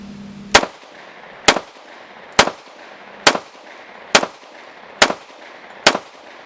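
Seven sharp pistol shots from a Kimber 2K11 .45 ACP double-stack 1911 ring out at an even, steady pace, each a loud close crack with a brief decay and quiet between.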